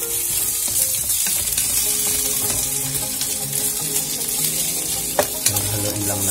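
Chicken for butter garlic chicken frying in a pan, stirred with a spatula over a low-to-medium flame: continuous close sizzling with scraping stirs and a couple of sharper utensil knocks near the end.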